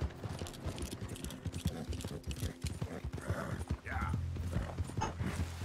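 Hooves of a horse clip-clopping in Red Dead Redemption 2: rapid, uneven galloping beats close by, with a brief snort or whinny partway and low ambient rumble beneath.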